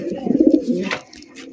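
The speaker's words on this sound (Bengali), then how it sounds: "এটা হচ্ছে বোম্বাই কবুতর" A Bombay pigeon gives a single close, throaty coo that rolls for under a second, followed by a brief quieter sound.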